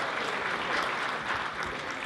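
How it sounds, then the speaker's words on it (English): Audience applause for a keynote event's sponsors: a dense, steady wash of clapping from a crowd, sustained and even throughout, with no talk over it. "So applause for our sponsors"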